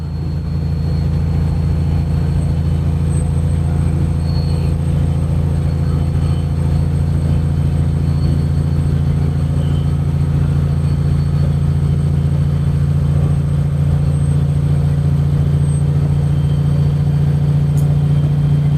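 A truck's diesel engine holds a steady 1500 to 1700 RPM at high elevation, a continuous low drone with a constant hum that stays level and close for the whole stretch.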